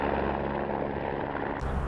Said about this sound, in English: a helicopter showed up, so I waited for it to leave until the airspace was clear